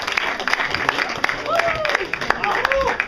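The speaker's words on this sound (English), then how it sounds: "Round of applause for our actors." An audience applauds improv actors at a Halloween comedy show, with steady clapping in the room and a voice talking over it.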